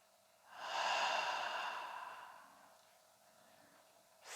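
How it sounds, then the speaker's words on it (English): A single deep breath during a face yoga relaxation for jaw tension, a soft airy inhale swelling and then fading into a long, gentle exhale, close and quiet with no talking. "Close your eyes. Take 5 breaths."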